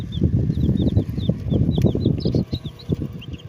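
Chicks peep in a busy, high-pitched chorus while hens cluck and shuffle nearby, with a steady farmyard rustle throughout.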